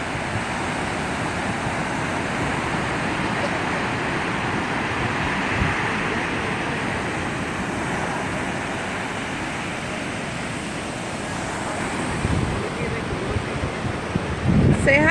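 Ocean surf rolling onto a beach at sunset, a steady broad wash of waves with wind buffeting the microphone.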